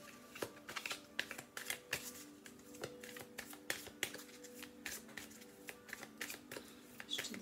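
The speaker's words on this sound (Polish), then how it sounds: "O, już padają karty." Lenormand oracle cards being shuffled and laid down: a quiet, steady run of light papery taps and flicks, close and soft, with no talking.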